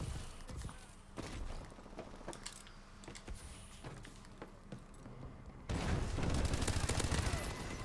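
Gunfire from the Call of Duty Advanced Warfare video game crackles in scattered bursts of sharp shots, then swells into a dense, loud barrage near the end, with a voice speaking in the game's mix.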